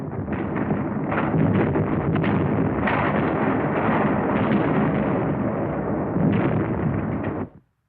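WWII artillery barrage near San Pietro: continuous heavy booms and rumbling blasts overlapping for several seconds, loud and dense with no clear pauses, ending abruptly; no voices.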